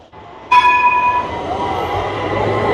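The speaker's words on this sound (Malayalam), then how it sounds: "ട്രാം വരുന്നുണ്ട്" A tram on an Istanbul street in Sultanahmet sounds a loud, sustained horn tone near the start, followed by a steady rumble of the rolling car up close.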